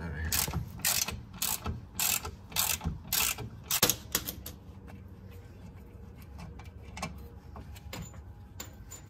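Ratchet wrench loosening a 12 mm parking brake cable bolt on a Honda Civic, a fast series of close, crisp clicks in bursts that turn into lighter, spaced ticks.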